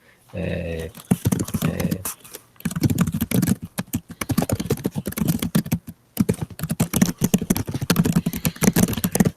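Fast, uneven clatter of a computer keyboard as random sentences are typed, keys rattling in quick bursts with short pauses between them, close and fairly loud throughout.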